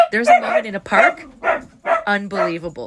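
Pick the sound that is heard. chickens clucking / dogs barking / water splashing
dogs barking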